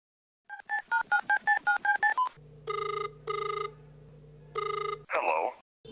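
A telephone is dialed with a quick run of about ten keypad tones, followed by three long ringback tones and a brief burst of voice at the end.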